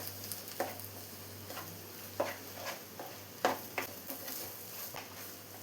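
A beetroot and egg stir-fry is stirred in a pan, with soft scrapes and taps of a spatula at irregular intervals over a faint sizzle and a steady low hum, quiet and close.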